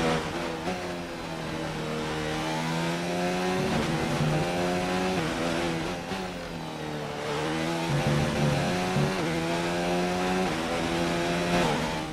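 A Formula 1 car's engine in F1 2019 at Monza, screaming loud and close as it revs up through the gears, drops sharply for braking into a chicane, then climbs again in repeated rising sweeps.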